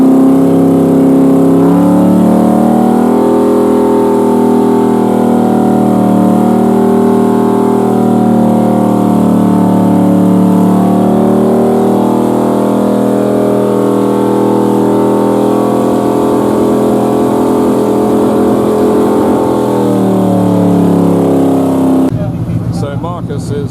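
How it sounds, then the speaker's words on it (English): Historic racing boat engines being run up to full revs during scrutineering-day engine testing at a jetty, a loud, sustained, steady multi-tone engine roar that holds for about twenty seconds before cutting off abruptly. "They're obviously running the engines up, make sure that they're getting full revs."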